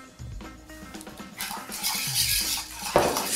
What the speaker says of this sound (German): Und immer schön dabei rühren.